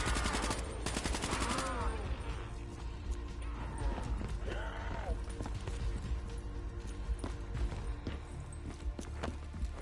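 Gunfire from Call of Duty 3 in a nightmare mod, bursts of shots and rattling weapon noise over a busy, dense game mix, with people talking throughout.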